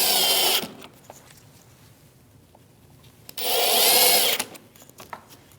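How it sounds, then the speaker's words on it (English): Two loud bursts of a power drill driving self-tapping screws into a front license plate bracket on a Chevrolet Malibu, each whirring for about a second, separated by quieter handling clicks and scrapes. "They are self-tappers, so even if you don't have any, this is designed to screw right into the plate."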